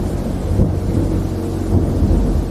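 Heavy storm noise with deep rumbling thunder and a dense wash of rain and wind, loud and continuous throughout.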